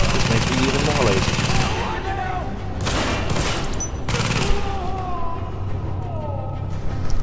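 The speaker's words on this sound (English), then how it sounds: "That MG turret just absolutely chews up the bad guys" Machine gun turret fire in a shooter video game, a loud unbroken rattling stream of rapid shots running the whole time under a talking voice, with brief gaps where the firing thins.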